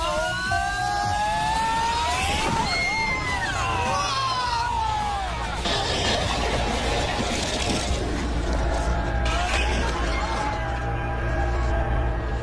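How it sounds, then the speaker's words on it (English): A Corvette and a Mustang colliding head-on, with engines whining and rising before a burst of crunching impact that repeats a few times. Voices are heard faintly in the background. "That's a head-on collision that's worth seeing again and again and again."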